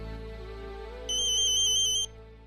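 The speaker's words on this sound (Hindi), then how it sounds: "अर्जुन, आई का फोन है, एक सेकेंड।" A mobile phone ringtone chirps out a rapid, high, trilling electronic pattern for about a second over a soft musical background from a Hindi TV serial.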